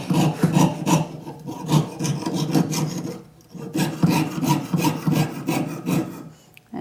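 A jeweler's saw blade pierces metal in quick, rhythmic rasping strokes, close and steady with a brief pause midway before the sawing resumes.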